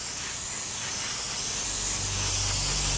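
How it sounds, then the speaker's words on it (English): Soft, steady hiss of an airbrush at low air pressure laying a first coat of Alclad metal paint, continuous and close, with no talking. "I'm just going to spray all over here a nice first coat"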